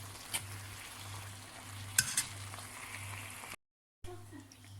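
Vegetables frying in a pan for lasagne, soft sizzling with occasional scrapes and clinks of a utensil stirring, fairly quiet and close, briefly cutting out near the end.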